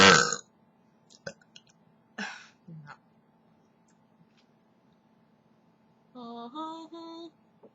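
One loud, raspy belch comes right at the start, followed by near silence with small mouth noises, then a stretch of voiced, tonal vocal sounds near the end.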